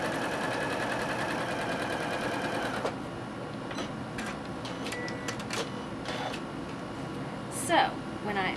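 Sewing machine stitching quilt binding along a diagonal line, a rapid mechanical whir for about three seconds, then stops; light handling clicks and a spoken voice follow.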